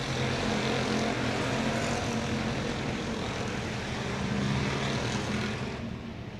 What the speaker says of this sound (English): Listen for the engines to roar to life coming into turn 4